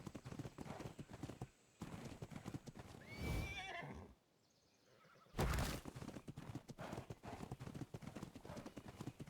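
Horse in the video game Ark: Survival Evolved, with rapid clip-clopping hooves running steadily, broken by a loud whinnying neigh midway and a brief lull before the galloping resumes.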